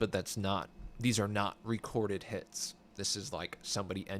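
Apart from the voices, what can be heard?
No everyday noise stands out behind the speech.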